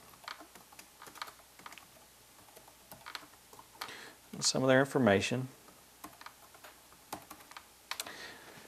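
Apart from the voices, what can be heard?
typing on a computer keyboard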